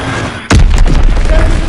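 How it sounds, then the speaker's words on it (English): An enemy bomb explodes in an Uncharted video game, landing as one sudden loud, close boom with a heavy low rumble that lingers through the rest of the moment. "Enemy bomb incoming. Get to cover."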